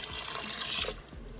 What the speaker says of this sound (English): so I'm adding 2 cups plus 3/4 cups of water